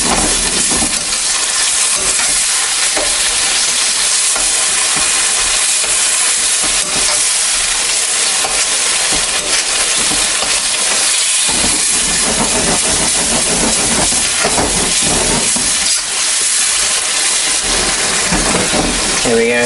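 Meat cooking in sauce in a wok gives a loud, constant sizzling hiss that continues throughout, up close, with faint clatter underneath.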